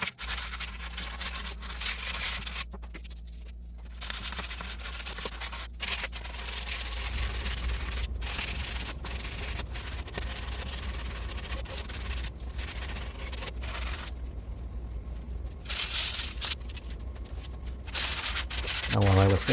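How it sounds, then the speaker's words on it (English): Continuous rhythmic rubbing of sandpaper over painted wood, close and steady, with brief pauses between strokes. "while I was sanding this part"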